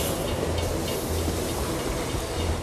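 A train rolls steadily in Borderlands 2 with a loud, continuous rumble and a rattling undertone, and no voices are heard.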